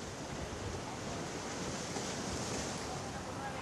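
Sea waves surging along the shore at Marine Drive, Mumbai, with high tides expected; a continuous, broadband wash of surf and wind noise, steady and fairly faint, with no voices over it.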